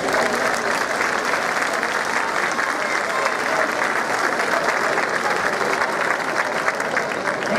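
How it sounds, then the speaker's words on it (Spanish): A concert audience bursts into dense, steady applause that holds evenly for several seconds, a full crowd clapping in a hall during closing thank-yous. "Por ello que también ustedes se merecen ese aplauso."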